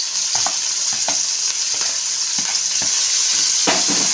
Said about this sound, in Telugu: మళ్ళీ ఒకసారి కలుపుకున్నాం.